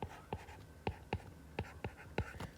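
Marker strokes on a board, writing out red matrix notation during a mathematics seminar: a series of short, close squeaky strokes in an uneven rhythm, with no talking.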